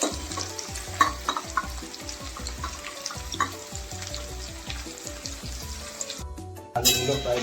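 Potatoes fry in a pan with steady crackling sizzle and occasional stirring scrapes, close and continuous, dropping off briefly near the end before returning, with no talking.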